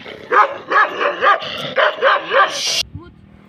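A young Kangal dog barks repeatedly in a quick, excited series of about eight loud barks, close by, then falls quiet.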